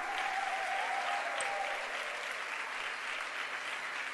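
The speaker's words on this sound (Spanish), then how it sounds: "¡Aplaudí con ganas y con fuerza!" A large audience at a talk by Alejandra Stamateas applauds steadily, a dense continuous wash of clapping throughout, moderately loud and slightly distant.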